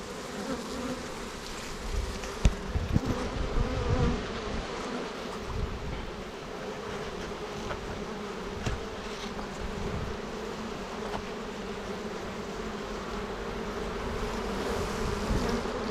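Honeybees from a well-developed spring colony buzz continuously around an open hive laden with spring honey, a dense steady drone close by with occasional louder passes of individual bees, no voices.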